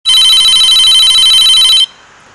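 Telephone bell ringing loudly in one continuous burst of close, bright trilling that stops abruptly, leaving a faint room tone.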